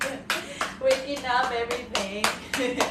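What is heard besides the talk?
class clapping hands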